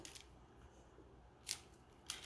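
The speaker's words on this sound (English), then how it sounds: "Let's give it a little trim." Scissors trim a ribbon bow on a greeting card, making two crisp, close snips about half a second apart over quiet background.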